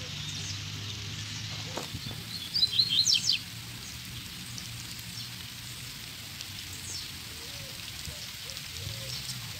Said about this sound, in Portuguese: a chuva nem chega a pegar forte, entendeu? É aquele chuvinha de chuvisco.